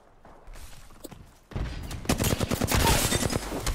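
Gunfire from a rival squad in Apex Legends: quiet sparse shots at first, then from midway a loud, sustained burst of rapid automatic fire and overlapping shots that builds in intensity to the end.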